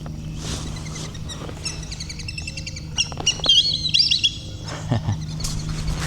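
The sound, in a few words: whistling duck calls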